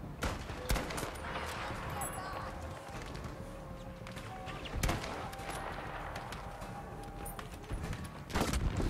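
Gunfire in the video game Battlefield V, scattered shots and sharp cracks amid a busy battlefield background, with someone talking intermittently over the action.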